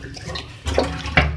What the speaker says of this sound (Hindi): इसमें थोड़ा सा पानी जो है मैं ऐड करूँगी 1/2 कप के करीब